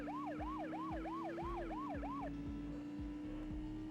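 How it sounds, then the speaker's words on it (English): A police siren from the Hong Kong level of the Dreamcast racing game Test Drive 6 wails in steady repeating up-and-down sweeps for about two seconds, then cuts out, leaving a constant engine drone and a regular low thump. "the siren turns off after a little while because, you know, there's nobody around"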